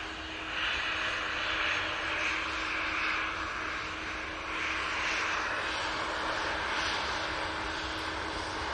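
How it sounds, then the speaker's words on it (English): A Ryanair Boeing 737-800 jet airliner at Manchester Airport gives a steady, distant engine roar that holds even and unbroken, with no talk over it. "Ryanair 737-800 coming on now."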